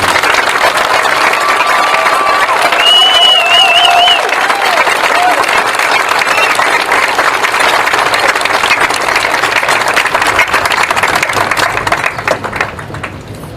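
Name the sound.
applause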